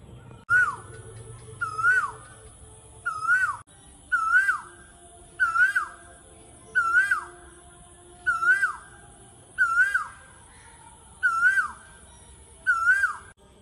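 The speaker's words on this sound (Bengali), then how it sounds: "কোকিলের ডাক শোনাতে" An Asian koel calls repeatedly outdoors, about nine clear, evenly spaced rising whistled notes, loud and close with a faint background hum between them.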